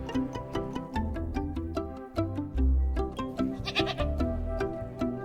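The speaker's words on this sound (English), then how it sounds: "This is a goat." Goats bleat in a dense, repeated chorus of wavering cries over a busy music-like background, loud and close, with no talk.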